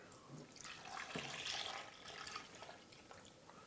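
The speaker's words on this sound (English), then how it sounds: "I'm going to use some apple cider. I'm going to pour it in here." Apple cider pours steadily into a pressure cooker pot for a few seconds, a soft splashing gurgle that swells and then eases off.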